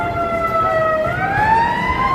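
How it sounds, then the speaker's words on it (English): An ambulance siren wails and rises in pitch as it pushes through a crowded street in Wrigleyville, Chicago, on a Cubs game day. The siren is fairly close and sounds over a low hum of traffic and crowd. "here comes the ambulance trying to get through this crowd"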